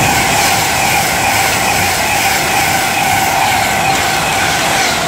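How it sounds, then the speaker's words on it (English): An Avanti West Coast Class 390 Pendolino tilting train on the London to Liverpool Lime Street route passes Lichfield Trent Valley on the West Coast Main Line, a loud, close, sustained roar of rushing wheels and air with no voices. "now passing by is going to be from London to Liverpool Lime Street. It's an Avanti West Coast Class 390 Pendolino"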